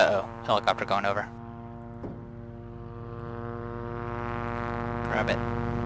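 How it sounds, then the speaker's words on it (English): A helicopter passes overhead in the zombie survival game Project Zomboid, a steady droning rotor hum that swells gradually and holds, with short bursts of someone talking at the start and near the end. "helicopter going over"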